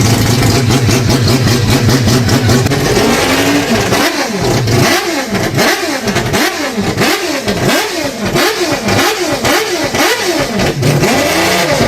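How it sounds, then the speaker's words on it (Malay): A Mazda 787B Le Mans race car with a rotary engine revs hard and loud, close by, in a rapid series of rising and falling throttle blips after a steady high-pitched drone, with no talk. "Enjin yang paling berjaya dalam sejarah rotary engine adalah daripada enjin kenderaan lumba Mazda 787B"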